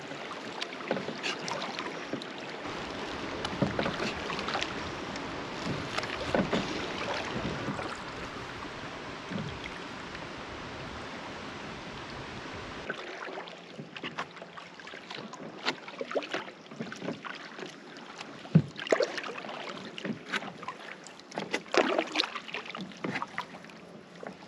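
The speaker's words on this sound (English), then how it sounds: "we can hear the falls. I'm going to go closer so we can hear it." Water from the falls at Arrowhead Provincial Park rushes in a steady broadband roar, heard from nearby with wind buffeting the microphone and scattered handling bumps.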